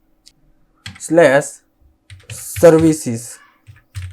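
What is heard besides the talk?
typing on a computer keyboard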